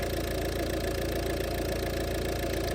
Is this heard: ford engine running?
yes